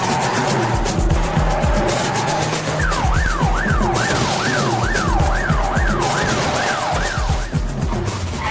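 A car in the PlayStation 2 game The Getaway, set on the streets of London, is driven hard with a loud engine roar and squealing, skidding tires, while a police siren wails repeatedly nearby.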